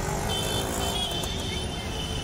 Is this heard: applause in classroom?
no